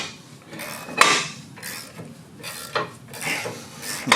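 Loose brake hardware on a Chevrolet Equinox front brake rattles and clanks in several metallic bursts, with sharp knocks around the one-second mark and repeated jangling through the rest, close by with no talk.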